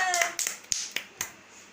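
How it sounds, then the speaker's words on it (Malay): Pupils in a Malay-language primary classroom give a brief round of hand claps, four or five sharp, scattered slaps heard right after a short stretch of speech. "Tepuk tangan semua."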